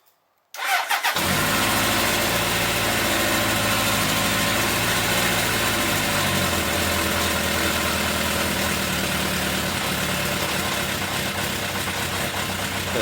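A Honda CB900 motorcycle engine on choke cranks briefly after a moment of silence, catches and settles into a loud, steady idle with a slightly lumpy beat. No voices.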